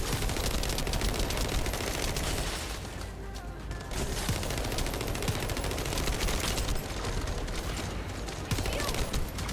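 Weapons fire in The First Descendant, on the fortress final map, rattles in dense rapid bursts with brief pauses, loud and continuous under faint background sounds.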